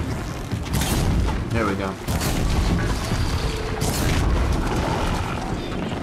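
Explosions in the Horizon Zero Dawn video game boom through loud, dense combat noise, with one sharp blast near the start and more rumbling bursts after, while someone talks over the action.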